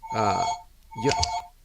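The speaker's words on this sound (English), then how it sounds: "That's the phone ringing in the background." A landline home phone rings twice in the background, each ring a clear electronic trill lasting about half a second, moderately loud.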